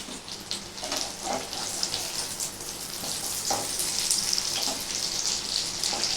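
Cheesy chicken kababs frying in a pan, a steady close sizzle and crackle with occasional scraping and stirring, continuous throughout with no talking.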